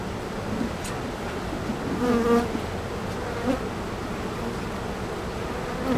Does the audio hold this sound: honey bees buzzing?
yes